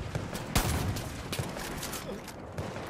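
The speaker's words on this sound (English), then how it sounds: "Oh my god, I'm being shot at" Gunfire in the Far Cry video game: a rapid scatter of distant-sounding shots and cracks, fairly faint, bursting irregularly over a noisy background without clear speech.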